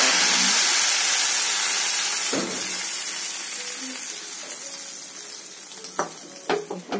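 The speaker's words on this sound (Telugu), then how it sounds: "ఇలా వేగిన తాలింపుని ఈ పులుసులో తిరగబెట్టుకోవాలి." Hot oil tempering sizzles loudly as it is poured into a fish stew, a bright hissing rush that gradually fades, followed by a few sharp knocks and clatters of utensils near the end.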